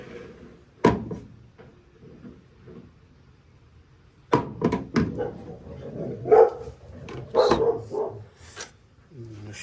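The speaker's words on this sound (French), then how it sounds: "Le chien du voisin qui gueule." A neighbour's dog barks several times in sharp bursts, some distance off, in a quiet workshop setting with occasional faint clatter and a little talk.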